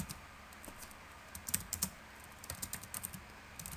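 Typing on a computer keyboard, a faint quick patter of light key clicks in two short bursts, close and alone in a quiet room.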